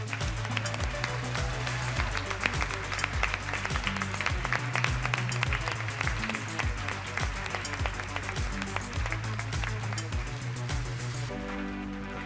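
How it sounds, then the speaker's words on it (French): Sustained audience applause at a women's event, dense continuous clapping from a large crowd throughout, loud and steady before tapering near the end. "Et oui, mesdames et messieurs, ça s'applaudit encore plus fort."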